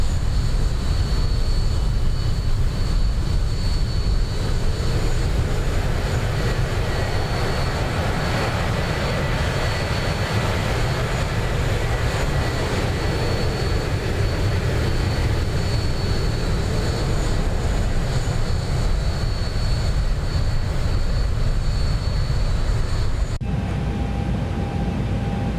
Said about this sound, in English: You can hear the engines are idle.